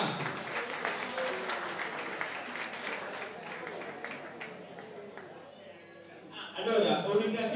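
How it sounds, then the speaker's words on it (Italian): Applause from a crowd for a guest at a memorial event in Venturina, fairly faint and uneven, with murmured chatter underneath and a louder burst of clapping near the end. "applauso a Massimo"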